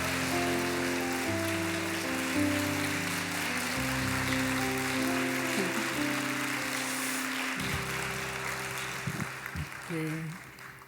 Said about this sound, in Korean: 우리 큰 박수로 하나님께 영광 돌리며